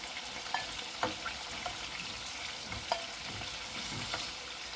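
Chicken breast fries in a pan with a steady, quiet sizzle, broken by small pops and occasional stirring clinks.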